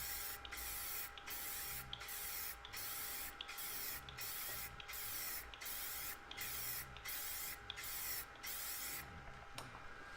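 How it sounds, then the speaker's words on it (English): Repeated short hissing bursts from a spray can spraying paint onto a canvas for laser engraving, about a dozen evenly spaced sprays with brief gaps, close and steady. "So easily just spray it on."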